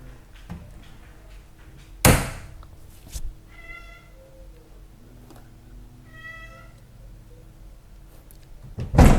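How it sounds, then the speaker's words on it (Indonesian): A large, fat stray village cat meows twice, drawn-out and fairly close, in a quiet room broken by a few sharp knocks and thumps. "Ini ada kucingnya gede banget, gendut banget."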